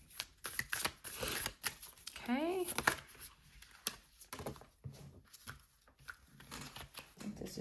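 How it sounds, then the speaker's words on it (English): Tarot cards being shuffled by hand in a series of quick papery riffles and taps, close up, with someone talking over and between the shuffles. "We're going to keep shuffling."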